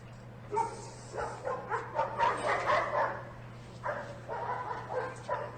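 Several dogs bark and yip in irregular bursts at moderate distance over a low steady hum, with brief whimpers between the barks.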